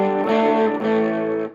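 Electric guitar played through a 1960 Gibson GA-40 tube amp that is starting to break up, a sustained loud chord with gritty overdriven edge, re-struck once midway and fading at the end.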